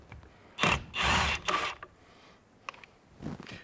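A 19 mm socket loosens the steering wheel nut on an RA28 Celica. A few short, fairly quiet rattling bursts sound close by, with quiet gaps between them.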